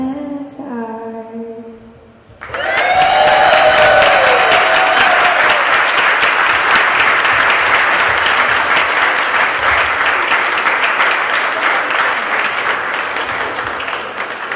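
Enthusiastic audience applause after a song at a Lawrence Pride flag raising and Pulse memorial, bursting in loudly after a brief sung phrase and continuing as dense, sustained clapping and cheering that slowly eases.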